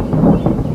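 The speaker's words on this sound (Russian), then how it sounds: "Не понял, откуда гроза?" A thunderclap in an animated cartoon about a killer Kolobok rolls out as a loud, deep rumble lasting under a second, with no voices over it.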